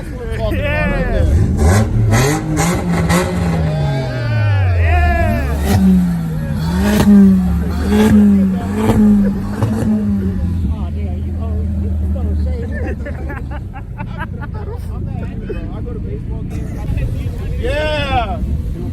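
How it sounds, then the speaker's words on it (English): A turbocharged car revs repeatedly at a car meet, its engine rising and falling in rhythmic pulses that are loud and close, with a crowd cheering and talking throughout. "Rev it, rev it! Yeah, I hear a turbo."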